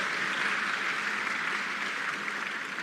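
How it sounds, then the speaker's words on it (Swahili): An audience at a Tanzanian journalism awards ceremony applauds at length, a dense, even wash of clapping that holds steady for about three seconds without a break. "Tuwapigie makofi mengi sana."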